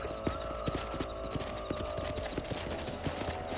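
Galloping horse hooves in Red Dead Redemption beat in a fast, steady rhythm, close and clear, over a constant low rumble of movement.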